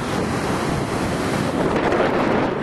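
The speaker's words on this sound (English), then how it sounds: "So it's extremely windy, so I'm gonna put the camera away." Strong wind buffets the microphone over steady crashing surf on the beach at Wineglass Bay, a loud continuous roar with no talking.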